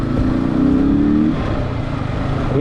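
A Yamaha R15 V4 motorcycle fitted with an upgraded Apollo Alpha H1 tyre revs hard during a burnout, its engine droning loud and steady at close range with a rising whine partway through.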